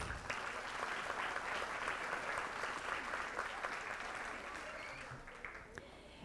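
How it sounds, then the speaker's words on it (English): A room applauds an honored school secretary at a board meeting, with sustained, even clapping from a sizable crowd filling the whole stretch and tapering slightly toward the end, faint voices mixed in. "Let's give Yoli another big round of applause."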